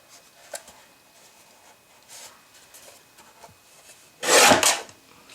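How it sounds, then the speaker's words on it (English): Cardstock is sliced with a paper trimmer: after a near-silent stretch with faint handling rustles, one loud, brief rasping cut sweeps through near the end. "as soon as we get our cardstock cut for the first cut"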